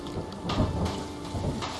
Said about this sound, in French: Oh non, l'orage.